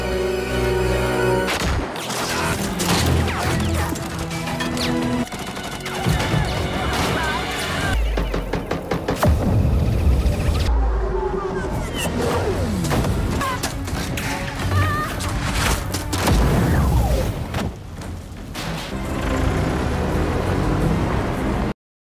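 Film gunfight between armed men and a tribal chief's side, heard as a dense, loud mix of bangs, crashes and sharp impacts over a continuous dramatic score, with one brief drop in the middle.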